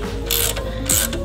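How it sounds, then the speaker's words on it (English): A ratchet wrench loosens a nut on a Subaru Crosstrek suspension part, giving two short bursts of rapid clicking up close, with no talking. "We can loosen the nut."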